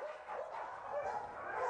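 A Staffordshire terrier mix dog barks and yips in short, whining bursts, fairly close and moderately loud, with no talk over it.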